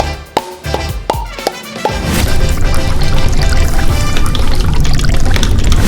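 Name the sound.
pouring gunk out of plastic tubes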